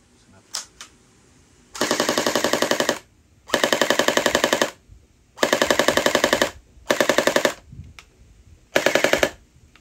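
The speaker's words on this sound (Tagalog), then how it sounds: "So subukan na natin siya sa full automatic agad." A gel blaster running on a 7.4 volt battery fires in five full-auto bursts, each a loud, rapid mechanical rattle lasting about a second, separated by short pauses and a few faint clicks.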